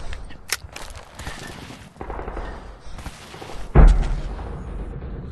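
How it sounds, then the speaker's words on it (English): In the online shooter Natural Born Soldier, a thrown grenade detonates with a single loud, heavy boom just before the four-second mark, preceded by scattered gunfire and in-game commotion. "Tossing grenade."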